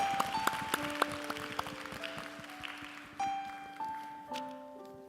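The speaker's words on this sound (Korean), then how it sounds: "다시 한번 뜨겁게 축하의 박수 올려드리겠습니다." Applause from a church congregation at a Korean Sunday worship service, a steady wash of clapping that continues under sustained keyboard or organ chords.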